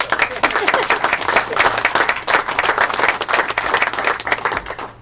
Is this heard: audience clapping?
yes